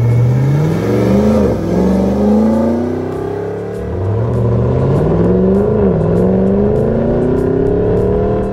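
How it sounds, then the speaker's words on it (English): A restored 1996 Land Rover Defender 110 with a 650-horsepower LT4 supercharged engine and 8-speed automatic revs and accelerates through rising gear sweeps, loud and close, with no talk. "This 110 is powered by our LT4 650 horsepower supercharged engine"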